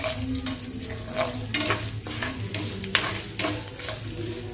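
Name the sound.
urad dal, dried red chilies and cashews frying in tempering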